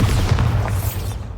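A Bombarda blasting spell goes off in the video game Hogwarts Legacy: one loud, deep booming explosion with a rumbling tail that fades out after about a second.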